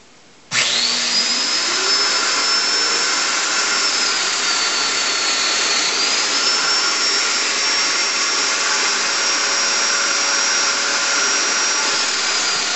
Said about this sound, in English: Let's go ahead and start cutting domino mortises.